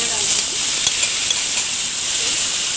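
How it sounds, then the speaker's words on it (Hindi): Chickpeas fry in oil with cumin in a pan on low heat, a loud steady hiss and sizzle close up with no speech. "फ्राई कर देंगे चने"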